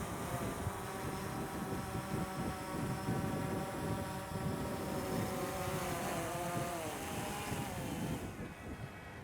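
DJI Phantom 3 drone coming in to land, its propellers giving a close, steady buzzing whine with shifting tones that dips and fades near the end as the motors wind down.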